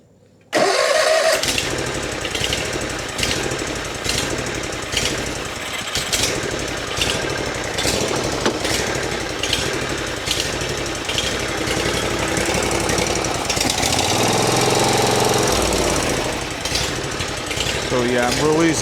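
A Toro Z Master zero-turn riding mower engine runs loud and steady for the whole stretch, with a rough, chattering drone and a deeper shift in tone near the end.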